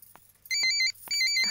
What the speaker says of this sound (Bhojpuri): दीदी। काजल फोन